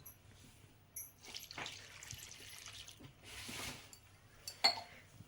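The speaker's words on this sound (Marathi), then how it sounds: "यामध्ये आपल्याला पाणी टाकायचं" Water poured into a pot of washed pigeon pea pods, quiet splashing and trickling in short bursts with a sharper pour near the end, close by in a calm kitchen.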